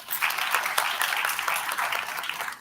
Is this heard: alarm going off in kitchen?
no